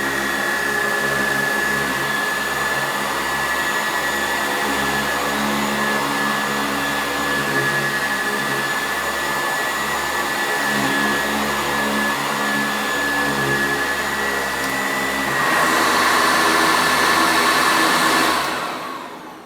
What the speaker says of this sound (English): Go ahead and take the vacuum off the carpet here.